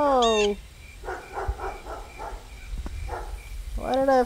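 A dog in the game Echoes of Aeons gives a run of rapid, fairly loud barks and yips in the middle, with speech briefly before and after.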